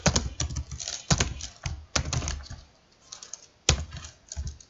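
Typing code on a computer keyboard, close and fairly loud, with bursts of rapid key clicks separated by short pauses and a few heavier keystrokes.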